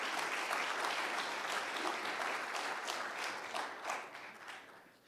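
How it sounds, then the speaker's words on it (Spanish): Audience applause welcoming a speaker at an International Archives Day event in Veracruz, Mexico: steady, dense clapping from a sizable crowd, loud and sustained throughout, tapering slightly at the end. "le recibimos los veracruzanos con un fuerte y caluroso aplauso"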